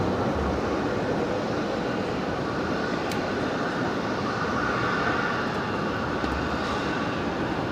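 A departing airliner roars continuously on runway 01 right at Brisbane Airport at night, a dense steady engine rush without speech.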